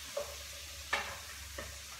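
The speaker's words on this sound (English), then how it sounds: "Now, my onions are cooking very well, and I can smell the turmeric in there" Onions with turmeric cook softly in a pan, a quiet low sizzle with a few brief scrapes of a spoon stirring, faint and close.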